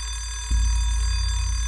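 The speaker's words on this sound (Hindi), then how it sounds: "इतना सुबह सुबह का अलार्म क्यों लगा दिया तूने?" An alarm clock rings in a bedroom early in the morning, a steady, continuous electronic tone that starts abruptly and holds at moderate loudness with no voices.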